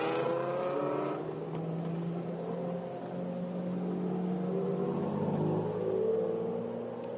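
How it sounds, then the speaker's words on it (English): Cars at a car meet, a Ferrari F40 among them, rev loudly and drive off. Their engines make a dense, sustained roar with rising and falling pitch throughout, and no voices are heard over them. "I think the cars are making enough noise."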